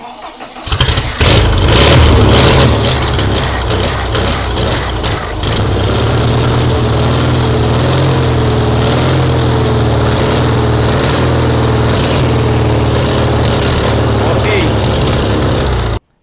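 A Volkswagen engine fitted with a Solex carburetor and run for the first time in three years on a conversion project starts and settles into a loud, steady idle with a low rumble, close to the microphone and continuous throughout.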